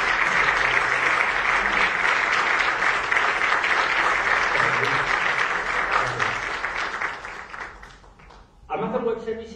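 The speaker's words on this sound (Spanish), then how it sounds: "Y os pido un fuerte aplauso." An audience at a business forum applauds loudly and steadily, a dense wash of clapping that tapers off near the end before a voice begins speaking.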